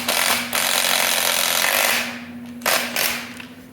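Power tools fasten the last brackets onto a 1996 Polaris Classic Touring snowmobile skid in a shop, giving two bursts of loud, close rattling mechanical whir with a short gap between them.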